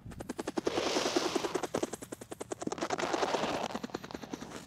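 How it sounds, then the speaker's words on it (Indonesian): A helicopter sound effect gives a steady, rapid rotor chop that pulses continuously at moderate loudness. Faint voice-like traces sit beneath it. "Ada yang menggunakan helikopter di pedalaman-pedalaman,"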